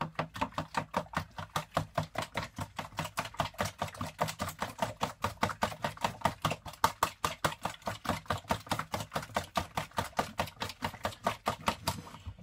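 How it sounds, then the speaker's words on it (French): Coconut banana boilie bait mixture stirred briskly in a bowl, a fast regular run of sharp knocking strokes repeating steadily and close, with no talk. "Et on continue à mélanger."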